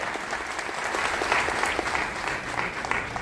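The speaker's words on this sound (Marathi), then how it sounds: "एकदा जोरात टाळ्या या सर्व कलाकारांचं स्वागत करूया." Audience applause welcoming the performers at a Gitramayan devotional music concert, a dense, steady clapping from a large crowd that holds evenly throughout without pause.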